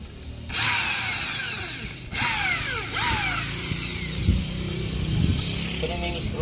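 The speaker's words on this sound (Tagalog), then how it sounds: "bubuksan natin siya ng barena kasi nakaribits siya" A power drill bores out rivets on the body of an Isuzu wing van under repair, whining loudly in repeated bursts with short pauses, plus metallic scraping and clunks from the workpiece.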